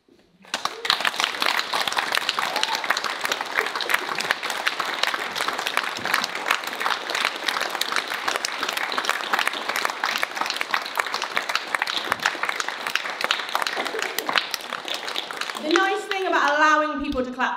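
An audience at a poetry launch in Leicester breaks into sustained, lively applause that fills most of the recording, then fades as a voice begins speaking at the end.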